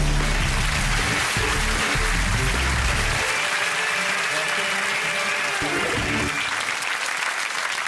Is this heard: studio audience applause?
yes